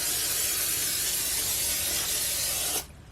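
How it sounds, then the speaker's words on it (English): A close, steady hiss of cooking spray from an aerosol can onto a casserole dish lasting a few seconds, then cutting off abruptly. "So I'm going to go ahead and spray my casserole dish first"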